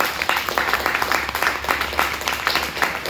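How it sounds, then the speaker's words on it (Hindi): Applause from a seminar audience at a network-marketing event, a steady patter of many hands clapping at moderate level for several seconds with no talk over it. "उनके लिए एक जबरदस्त ताली चाहिए।"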